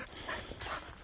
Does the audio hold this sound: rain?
no